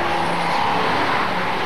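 A Zakspeed Viper GTS race car drives on the Nürburgring with a loud, steady, close engine roar and road noise that holds at the same level throughout, heard without talk.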